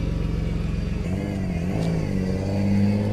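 A car engine with exhaust leaks idles and revs, producing a loud, close, throbbing rumble with a ticking, puffing rhythm. The revs rise toward the end.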